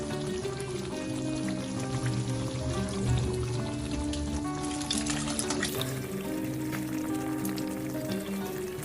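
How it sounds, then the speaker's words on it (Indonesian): Instant Kara coconut milk pours into a cooking pot for beef rendang, a continuous close liquid stream with splashy trickling that thins out in the final seconds. "Kita masukkan santan kara instannya"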